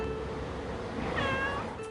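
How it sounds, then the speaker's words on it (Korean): A cat gives a single drawn-out, plaintive meow at moderate loudness over a low background hum, with no talking. "레드는 며칠째 그 앞을 떠나지 않고 안타까운 울음소리만이 거리를 울릴 뿐입니다."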